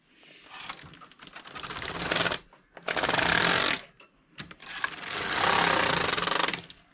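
Passap E6000 knitting machine carriage sweeping across the needle bed on cast-on rows, three loud rattling, clattering passes separated by short pauses, close and with no talking.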